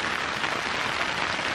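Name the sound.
rain falling at outdoor festival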